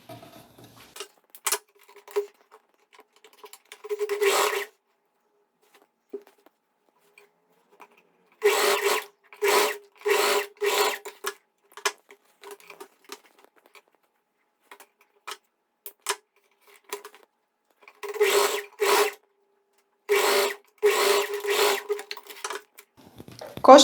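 A sewing machine stitches the crotch seam of fabric shorts in several separate runs, each a short burst of rapid, even mechanical ticking, with quiet pauses between them.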